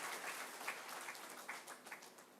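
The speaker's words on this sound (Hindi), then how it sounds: "और अपने लिए जोरदार ताली बजाएं।" Audience applause at a valedictory session, a steady crowd of hands clapping throughout, fairly faint and distant with no voices over it.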